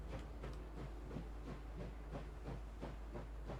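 Train in a video game: a low, steady rumble with rhythmic chugging pulses and hissing bursts repeating about every third of a second, fairly quiet and with no voices.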